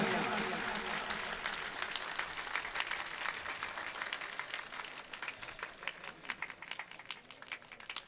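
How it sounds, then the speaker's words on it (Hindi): An audience applauds at a mushaira poetry gathering in Tanda, a dense, sustained wash of clapping that slowly thins toward the end. "एक बार फिर से तालियां"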